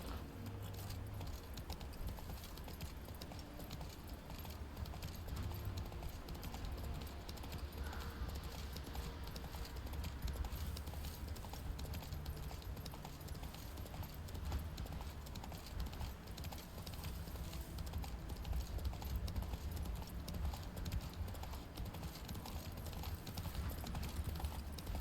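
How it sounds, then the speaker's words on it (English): A horse gallops in The Witcher 3 video game, with rapid, steady hoofbeats and a light jingle of tack running continuously and fairly close throughout. "Run, Roach"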